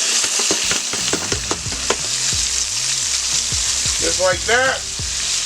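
Celery and onions fry loudly alongside pork loin, a steady hiss and crackle with stirring under it and someone talking briefly over the sizzle.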